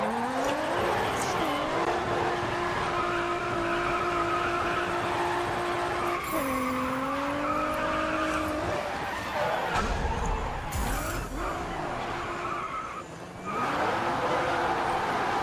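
Race car in the GRID Autosport video game skidding and spinning out, a loud sustained engine drone with shifting pitch and sliding tire squeal midway, continuous and close throughout.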